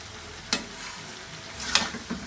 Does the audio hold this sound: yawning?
no